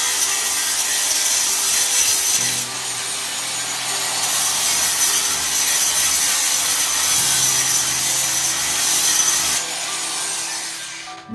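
A cordless variable-speed sander works the edges of a wooden cutting board at low speed, a close, continuous gritty whirring and rubbing whose pitch shifts a few times as the speed changes.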